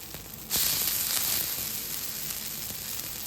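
Sweet potato pancake batter, a savoury kaara style, hits a large dosa griddle with a sudden rise into steady sizzling that holds on, close and moderately loud, with no voices.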